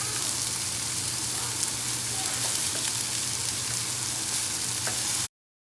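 Vegetables sizzle on a hot grill, giving a steady, close hiss with scattered crackles at an even loudness, then cutting off abruptly near the end.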